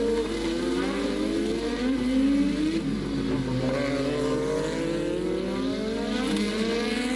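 Formula 1 cars racing at the 1986 French Grand Prix at Le Castellet, high-pitched engine whine rising and falling as cars overtake, steady and moderately loud with no voices.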